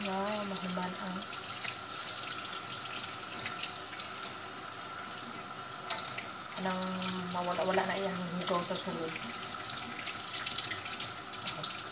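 Water runs steadily from a tap throughout while sheep offal is cleaned, with people talking over it and a brief pause in the flow midway.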